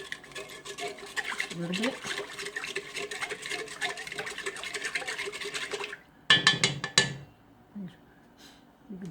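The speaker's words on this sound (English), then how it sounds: "I'm going to stir that around" Salt being stirred into a bowl for a cherry cream cheese braided Danish: a steady brisk scraping whisk for several seconds, close and continuous, then a short louder clatter, with brief talk in the background.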